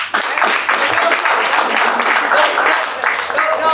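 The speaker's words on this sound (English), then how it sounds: "No applause, please." Dense applause from a gathering honoring veteran families, steady broadband clapping filling the whole stretch with a few louder bursts, fairly close and continuous.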